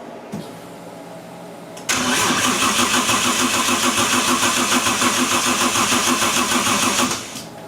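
A Nissan 240SX S13 fitted with a 1JZ engine cranks without catching: a quiet lead-in, then about five seconds of loud, steady starter churning, close by and with no talk over it, before it cuts off.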